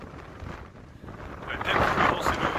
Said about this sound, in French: Ça souffle comme pas possible.